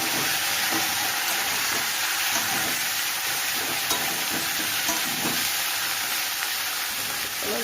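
Cauliflower is added to fried potatoes in a pan and stirred, a loud continuous sizzle broken by repeated scraping strokes of the spoon at an even pace.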